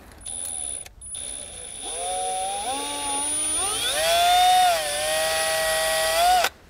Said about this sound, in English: We're gonna switch over to that smaller bit and drill out that alignment hole.